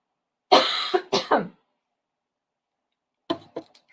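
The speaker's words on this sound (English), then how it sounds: "I'm going to cough." A person coughs a few harsh, close times, then after a pause clears their throat with several shorter coughs.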